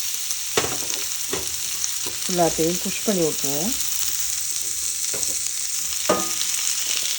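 Chopped onions frying in hot oil with cumin seeds, a steady sizzle throughout, spoon scrapes stirring the pan, and a person talking briefly over it.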